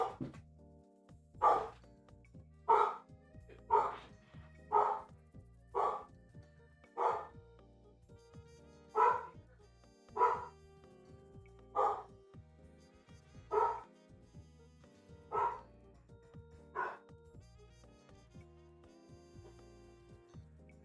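A dog barks at a squirrel outside a window, about a dozen separate loud barks spaced roughly a second apart and fairly close, with no talking over them.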